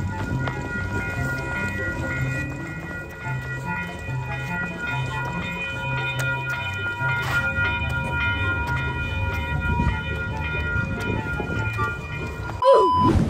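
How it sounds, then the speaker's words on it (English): A light rail train rumbles past with rhythmic wheel clatter and steady tonal hum, a crossing bell or horn sounding near the end. "Well, the Iron Light Rail trains are crossing, as you can see."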